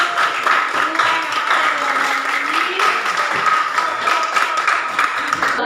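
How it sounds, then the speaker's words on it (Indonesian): Students in a class clapping together at the close of a lesson, a brisk, continuous burst of applause with a faint voice threaded through it. "kita beri tepuk tangan sekali lagi"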